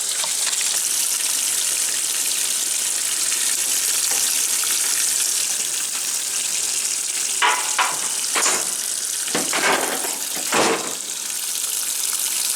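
A 1996 Maytag Dependable Care Plus top-load washer runs a regular wash cycle with the lid open, giving a steady churning, sloshing water rush, with a few louder splashes and knocks near the end, close and continuous.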